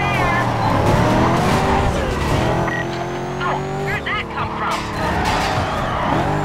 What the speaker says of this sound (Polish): wsadziłem tą dużą sprężarkę i świetnie teraz ona tutaj brzmi w tym samochodzie